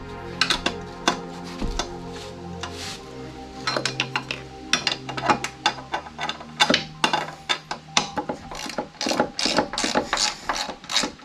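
Ratchet wrench clicking as it drives 2 1/2-inch bolts on a BadBoy ZT Elite zero-turn mower, rapid bursts of ratcheting clicks with pauses and metallic clinks, close and clear.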